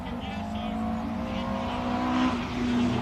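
A classic car pulls away hard at a hillclimb, its engine roaring and revving loudly up through the gears as it accelerates off, with a commentator talking over it.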